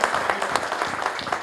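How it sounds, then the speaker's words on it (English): Audience at an AI-in-life-sciences panel discussion gives a brief round of applause, dense steady clapping lasting under two seconds. "Please, ladies and gentlemen, give a round of applause to Vijay."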